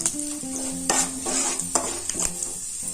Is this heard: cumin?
yes